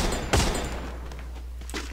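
Gunfire in a shooting video game: one sharp, loud shot stands out early, followed by fainter bursts and a later softer shot over a steady low hum.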